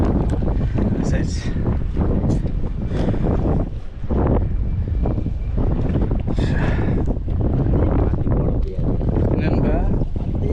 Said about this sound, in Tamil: ஏன்னா காற்று ஓவராக இருக்குல்ல